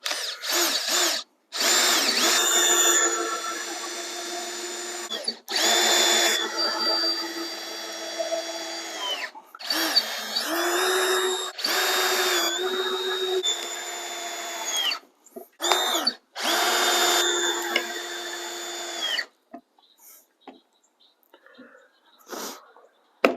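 A power drill whirs in a series of bursts, each a few seconds long with short pauses between, revving up and down as it drives three screws to assemble a chainmaille jig.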